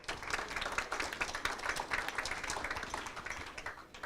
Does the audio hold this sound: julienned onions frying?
no